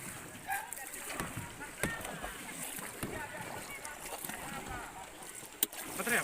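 Water splashes and sloshes around a boat during an earthquake rescue drill, with shouted voices and commands over the paddling and light wind.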